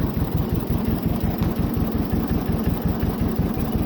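A stuck 1947 LT-40 Towmotor forklift digging a hole churns with a steady, loud, low pulsing engine throb, continuous throughout with no voices.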